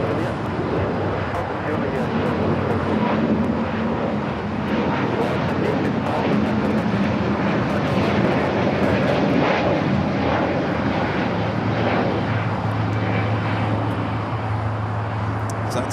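Jet airliners taking off from the south side of Los Angeles LAX airport, a broad roaring engine rumble building and holding, heard from a distance under ongoing conversation.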